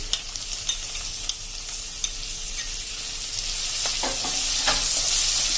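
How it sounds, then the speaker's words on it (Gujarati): Finely chopped onions sautéing in oil on a low flame for an okra dish: a soft continuous sizzle that grows slightly fuller, with scattered light spoon taps and stirring scrapes, close with no talk. "અને આને પણ આપણે એકદમ સ્લો ફ્લેમ ઉપર જ તેલમાં સાંતળી લેશું."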